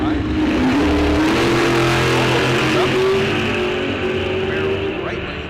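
Drag racing cars at Rock Falls Raceway, a Ford Maverick and a Camaro, roar loudly down the strip in a bracket race, a steady rising engine drone under a commentator's voice.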